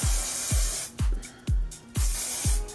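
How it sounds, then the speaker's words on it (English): Garnier extra strong hold hairspray released in quick hissing bursts, about six short close sprays at a steady rhythm with brief pauses between them. "just gonna spray a little bit"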